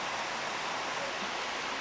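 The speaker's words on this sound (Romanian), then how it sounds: "Deși în acest moment cursul Fiadului este calm" Steady, even rushing of the calmly flowing Fiad river in Romania, a continuous broadband wash of water without pauses or voices.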